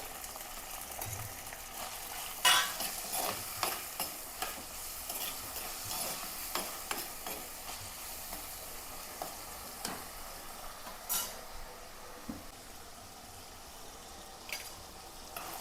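Onion, ginger, garlic and chopped tomato stir-frying in a pan for a fish curry, a continuous soft sizzle broken by repeated light clicks and scrapes of a stirring spoon, no talking.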